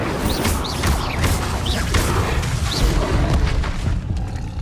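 In Hogwarts Legacy, an Incendio fire spell is cast during a fast sequence of combat spells. It sounds like loud booms and crashes with whooshing, whistling swirls, all packed into a continuous, busy blast.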